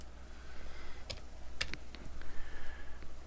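Computer mouse clicks in SolidWorks CAD software: a handful of quick, close, sharp clicks spread irregularly over a few seconds against a quiet room hum, with no talking.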